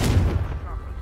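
A Confringo fire spell goes off in Hogwarts Legacy as a single booming blast with a heavy low-end punch that quickly decays into a crackling, fading tail.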